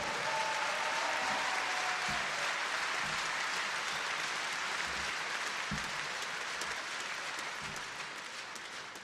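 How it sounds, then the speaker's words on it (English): Audience applause at the Teqball World Championships 2022 finals in Nuremberg, Germany, given for young performers: steady, dense clapping from a large crowd that holds for the whole stretch and fades slightly toward the end. "we should give some clap your hands for the young people"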